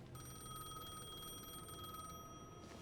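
A telephone rings in the video game Alan Wake II with a steady, bright electronic trill that continues throughout, moderately loud over a low background hum.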